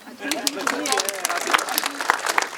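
A small crowd at a museum inauguration claps, sending up a scattered burst of sharp, uneven hand claps. The clapping runs close and fairly loud under a voice that continues talking throughout.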